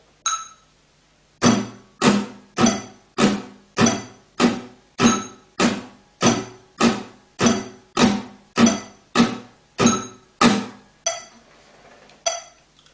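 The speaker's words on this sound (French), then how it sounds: "Donc on va tout gratter, les allées et les retours." Steady strumming on a guitar with alternating down and up strokes on beats and offbeats, about sixteen even, ringing strikes in a regular rhythm, close and loud, ending with a softer, looser strum.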